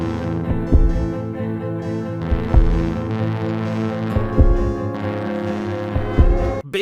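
A bass plays a slow solo in a soundtrack piece, deep resonant sustained notes pulsing with soft low thumps under a humming, droning texture.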